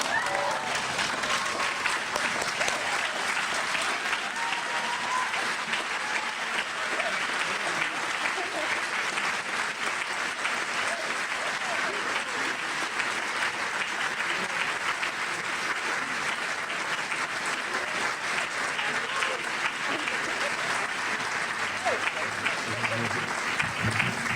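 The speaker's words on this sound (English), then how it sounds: "please stand up so we can clap" An audience rises for a standing ovation at a tribute to Dr. Rosie P. Bingham, its applause a dense, steady roar of clapping that holds evenly for the whole stretch with no voices on top.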